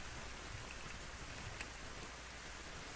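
Steady rain hiss falls throughout a scene in an RPG Maker video game, an even, soft wash of noise without change in rhythm or any talking.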